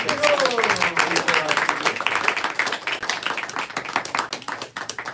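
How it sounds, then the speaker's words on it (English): Applause for a special guest at a Sunday gathering in a Brooklyn meditation room, a smaller group clapping with distinct individual claps that gradually thin out, a voice briefly audible near the start. "So everybody, give a nice round of applause for our special guest"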